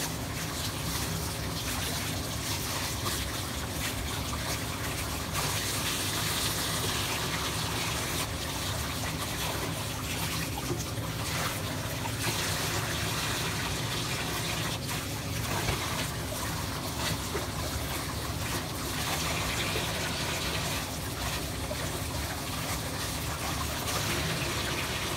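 Tap water runs steadily and loudly for the whole stretch while cloth diaper covers are rinsed by hand, a constant splashing gush with no talking.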